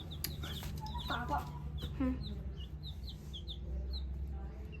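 Large Korean hens cluck in an outdoor yard, giving a few short clucks and a brief squawk at moderate distance, while small chicks peep repeatedly in the background.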